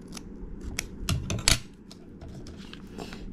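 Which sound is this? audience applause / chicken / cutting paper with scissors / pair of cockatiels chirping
cutting paper with scissors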